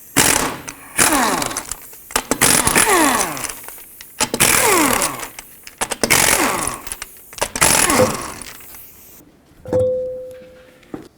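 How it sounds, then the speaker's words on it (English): A pneumatic impact wrench drives a 19mm socket off the lug nuts of a 2007-2009 Saturn Aura front wheel, firing in several loud rattling bursts separated by brief pauses, with a short whirring spin near the end. "I'm just going to use my 19mm socket, remove all 5 of my lug nuts"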